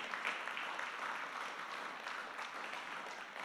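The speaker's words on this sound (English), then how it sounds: "just give God a hand clap right now, why don't you?" A church congregation gives a hand clap during a Sunday service, a soft, distant-sounding patter of many hands that stays even and continuous.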